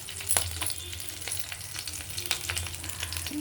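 Garlic and dried red chillies frying in hot oil for ponnaganti leaf chutney, a steady close crackling sizzle with occasional sharp pops and stirring scrapes throughout.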